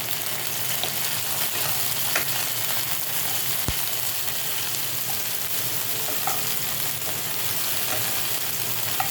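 Chopped onion, garlic and green chilli fry in a pan for chilli chicken, giving a dense, even, close sizzle that runs unbroken throughout with only a couple of faint ticks.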